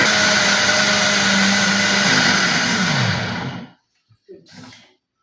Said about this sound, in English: you come with just a blender over here, the blender is going to be big